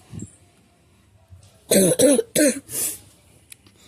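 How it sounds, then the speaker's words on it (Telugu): A person coughs in a short cluster of three or four harsh, close coughs after a brief throat sound, in a home kitchen while cooking ghee rice. "ఏమనుకోద్దు, కొంచెం కాఫ్."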